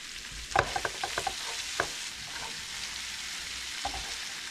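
Seasoned cabbage sautéing in a pan, a steady soft sizzle with a few clustered scrapes and stirs early on, close and moderately loud, with no voices.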